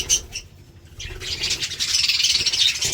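Many small birds chirping and twittering together while feeding on water and grain, a busy, continuous high-pitched chatter that grows denser toward the end.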